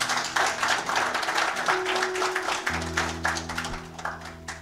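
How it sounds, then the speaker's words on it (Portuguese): Congregation applauding during a church sermon, a steady wash of many hands clapping with a low organ or keyboard tone sustained underneath, moderately loud and continuous throughout. "Vamos aplaudir Jesus por isso?"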